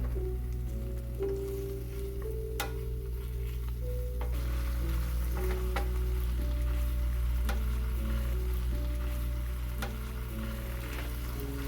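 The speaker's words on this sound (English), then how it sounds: "Right now I'm going to saute the sausage first guys." Sausage sautéing in a pan for fried rice, a steady close sizzle with scattered pops and crackles running throughout, no voices over it.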